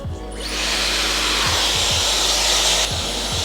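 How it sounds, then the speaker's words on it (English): Hair dryer fitted with a diffuser blow drying curly hair after a taper haircut: a loud, steady airy whoosh that starts up and runs continuously, with a few light knocks underneath. "we're gonna go ahead and blow dry it with our diffuser"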